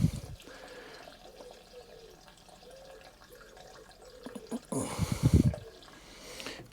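Petrol trickles and gurgles faintly from a can into a measuring container, followed by a louder, splashing pour near the end.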